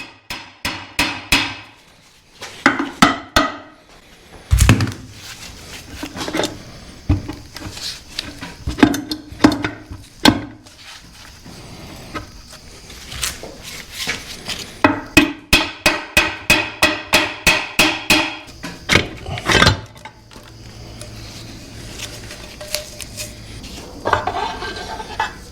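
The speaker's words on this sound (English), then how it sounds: "There's 3 tabs that you can tap on to crack the case loose." A hammer taps repeatedly on the tabs of a Jeep WK NV245 transfer case to crack the case loose. The sharp metallic knocks come in irregular bursts, including quick rapid runs and some heavier single blows, with quieter scraping between them.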